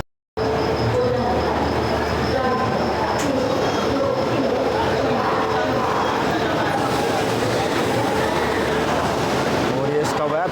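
Padmavat Express train departing Lucknow Charbagh station, a continuous loud rumble of wheels and carriages with rattling and clatter throughout, heard close from on board.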